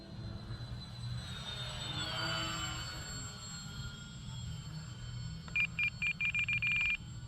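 A Dynam C-47 RC model airplane drones past in flight, a faint continuous engine whine swelling and fading with distance, while a separate beeping tone pulses repeatedly near the end.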